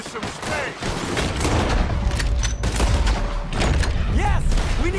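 Rapid gunfire crackles through a Red Dead Redemption 2 shootout against a cannon-backed enemy, dense volleys and thuds close by, with shouted voices over the constant firing.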